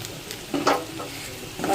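Finely ground bright-green masala paste sizzles in a hot pan as a utensil stirs it, with a steady frying hiss and a few louder scraping strokes near the middle and end.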